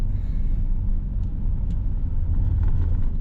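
A motorized tricycle's engine rumbles steadily during a ride on a hot summer day, a close, continuous low drone with road noise and no talking.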